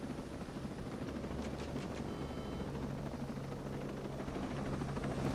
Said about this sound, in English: This fool landed a helicopter on the side of a mountain.